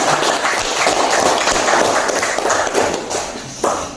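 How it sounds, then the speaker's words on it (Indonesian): A high school class applauds a classmate: dense, close hand clapping from many people for about four seconds, thinning out near the end. "Berikan aplaus untuk Kristen."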